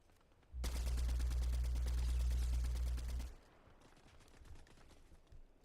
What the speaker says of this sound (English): Some gunfire,